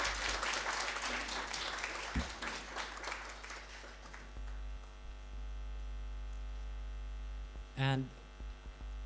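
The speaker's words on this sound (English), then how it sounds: "please welcome with a huge round of applause" Audience applause at a conference on ecology and climate crisis fills the first seconds with dense clapping, then fades out, leaving a steady electrical hum and a short voice near the end.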